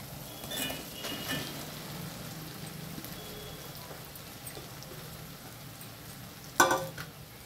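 Potatoes frying in a pan with turmeric, onion and green chillies, a soft continuous sizzle with light crackle, ending in a sharp clatter near the close, no talk.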